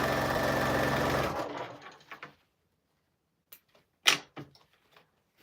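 A sewing machine stitches quilt pieces with a steady, dense mechanical whir for just over a second before stopping, followed by a few scattered clicks and handling knocks from the fabric and machine.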